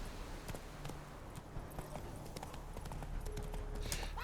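Roach the horse in The Witcher 3 trots along with a steady clip-clop of hooves, close and fairly quiet over a soft game ambience, with no talking.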